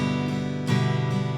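Acoustic guitar strumming the outro of a song, two full ringing strums close to the microphone with sustained chords, no voice.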